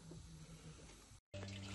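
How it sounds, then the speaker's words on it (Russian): Radiator flushing solution made with sodium percarbonate fizzes and hisses steadily at close range, a continuous bubbling wash of sound with a brief gap near the end before it resumes. "Смотрите, как там все варится. Видите, там шипит все."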